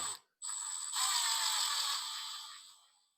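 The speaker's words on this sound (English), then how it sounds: "I just use an impact for this," A cordless impact driver runs screws into an Arrma Big Rock 3S RC truck, one short buzz, then a pause, then a longer close, loud whirring burst that winds down.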